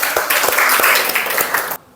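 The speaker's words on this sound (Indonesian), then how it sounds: "Tepuk tangan untuk kelompok 2." Classroom applause for a student group after their presentation in a cell division lesson, dense clapping from many hands that stops abruptly near the end.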